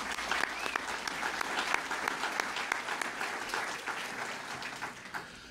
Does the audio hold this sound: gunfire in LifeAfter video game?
no